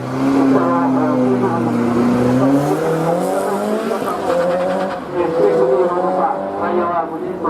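A car on Bridgestone RE71RS tires runs a gymkhana time attack, its engine revving up and down with rising and falling pitch and some tire squeal, while an announcer talks over it.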